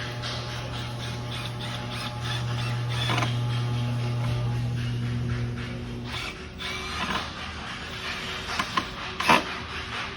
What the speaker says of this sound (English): We're going to put one screw in.